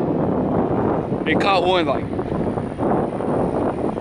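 Heavy wind buffets the microphone continuously while out fishing on a boat, a steady rumbling roar with someone talking over it.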